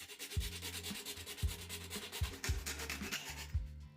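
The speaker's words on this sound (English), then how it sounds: "Using a hacksaw, cut off the marked part." A hacksaw cuts through the bottom of a plastic vitamin box in rapid back-and-forth rasping strokes, with a hollow thump at each turn of the stroke, close and alone.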